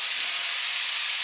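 Steady airy hiss of air forced through a clogged quad gas tank vent line just cleared of a beetle nest, continuous and fairly loud with no break.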